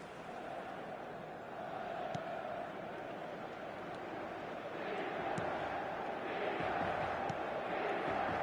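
A stadium crowd in the eFootball soccer game keeps up a steady, moderately distant roar and cheer, swelling slightly toward the end, with a few faint sharp knocks scattered through it.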